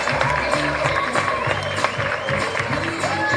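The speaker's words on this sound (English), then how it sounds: "Mason getting a nice round of applause here" Crowd at a high school baseball game between Brother Martin and St. Augustine applauding a departing pitcher, steady clapping and light cheering mixed with a commentator talking over it.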